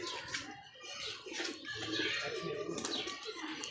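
Pigeons coo softly and repeatedly nearby, with a faint murmur of a voice in the background.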